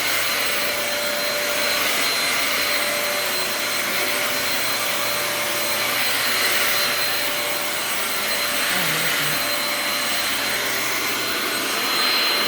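A Shark vacuum cleaner runs steadily on carpet, a loud continuous motor whine with an even broadband rush that holds without pause throughout, with no voices.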